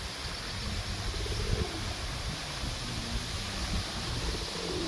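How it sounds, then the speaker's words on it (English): A couple of pigeons coo softly by the ponds in Ashton Gardens, St Annes on Sea. Their low, gentle calls sit faintly under a steady wash of outdoor park ambience. "Couple of pigeons."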